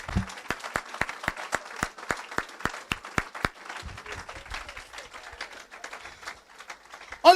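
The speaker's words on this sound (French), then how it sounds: "Acclame Dieu, mes amis, acclamons Dieu." Congregation applauding God in church: a run of sharp, evenly spaced claps rises over a softer crowd patter, then thins into scattered clapping before a voice cuts in at the end.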